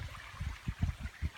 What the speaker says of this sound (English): these natural springs, it's coming right out of the embankment